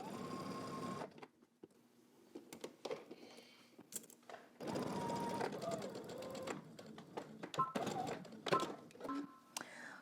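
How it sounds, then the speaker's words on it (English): A sewing machine stitches a 5/8-inch seam on a McCall's 8341 garment in several quiet whirring bursts separated by pauses, with soft talk and handling noises between them. "now we're gonna stitch this together using 5/8 of an inch seam allowance"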